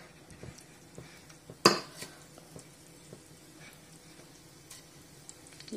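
Cumin and mustard seeds sizzle in hot oil in a pan while cooking soup vada, a soft steady fry with a sharp metallic clink of a utensil partway through and faint scattered pops.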